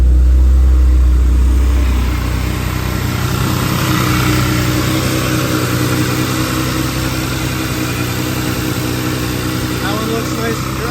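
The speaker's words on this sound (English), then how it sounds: "All right, let's fire this little lady up." A Porsche Macan engine cranks and catches, then settles into a steady, loud idle that runs continuously, with a brief heavier burst right at the start.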